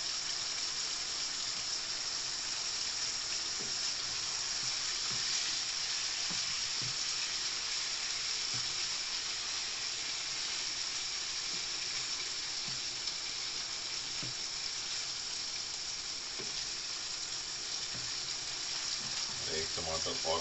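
Tomatoes frying in hot oil for chicken karahi give off a steady, dense sizzle that holds near and loud throughout, with faint stirring and a few soft knocks scattered underneath.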